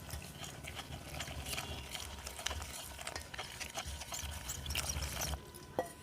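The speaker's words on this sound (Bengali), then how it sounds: "অল্প অল্প জল দিয়ে একটা ঘোল তৈরি করে নেব" Flour batter for patishapta pitha being mixed in a bowl as water is added little by little, a steady scraping and stirring with small clinks and sloshes, close and fairly quiet.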